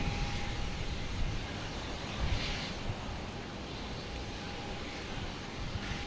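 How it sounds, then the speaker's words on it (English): A JetBlue jet airliner bound for Orlando takes off from Boston Logan Airport, a moderate distant engine roar mixed with gusty wind noise. "Next to take off is JetBlue heading to Orlando"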